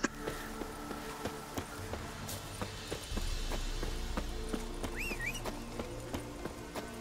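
A horse's hooves clip-clop in Witcher 3: Wild Hunt, a steady rhythm of soft repeated thuds over a low ambient game soundscape, with no talk.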